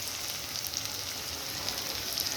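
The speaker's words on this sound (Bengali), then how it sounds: "পেঁয়াজটাকে ভেজে নেব, ব্রাউন কালার করে নেব।" Chopped onions fry and brown in a pan for a fish curry, giving a faint, steady crackling sizzle throughout with no talking.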